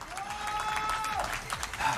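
Audience at a speedrunning event venue breaks into steady applause, a dense wash of clapping under a game's music and a voice talking over it.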